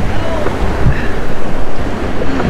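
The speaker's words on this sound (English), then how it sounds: "You should see them waves." Rough sea waves surge against a jetty at Galveston, Texas, a loud continuous wash of surf with heavy wind buffeting the microphone throughout.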